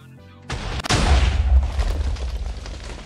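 A TNT cannon fires in a Minecraft factions raid, a sudden heavy blast after a short quiet lead-in, followed by a rolling, rumbling tail of overlapping explosions, loud and close.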